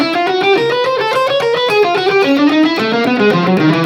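Electric guitar picking a fast chromatic 1-2-3-4 finger permutation exercise, evenly spaced single notes climbing and shifting across positions, slightly driven tone, close and alone.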